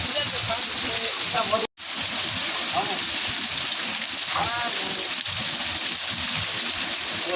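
Water rushes and splashes continuously at close range, a loud steady roar with voices calling out over it and one brief dropout.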